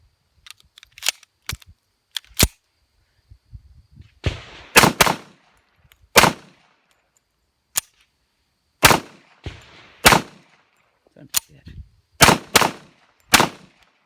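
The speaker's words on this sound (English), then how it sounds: "When I was shooting the pistol, all I had to do was just an ever so slight tap of my hand" Gunshots from a Canuck 1911 pistol that is jamming with failures to feed, heard as loud, sharp single reports in irregular bursts of two and three, with short gaps between strings and no talking.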